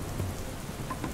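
Raindrops fall in a steady, dense patter, a continuous close hiss of rain on a surface with faint low rumbling underneath and no voices.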